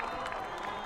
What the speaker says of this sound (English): They seem to have got a great reception from the crowd.